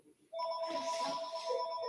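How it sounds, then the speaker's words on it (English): A phone ringtone starts abruptly after a brief quiet moment and keeps ringing steadily, a bright electronic tone heard indoors at moderate volume with no one talking over it. "Oh no, that's not this phone, Sierra."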